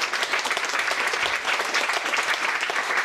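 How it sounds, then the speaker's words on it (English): A crowd at a poetry reading gives the readers a warm round of applause, a dense, even wash of many clapping hands heard up close for a few seconds. "One round of last round of applause for our wonderful readers."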